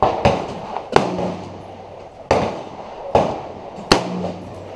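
Diamondback AR-15 rifle fired outdoors, five loud sharp gunshots at uneven intervals, each cracking out and trailing off in a brief echo, with no talking between them.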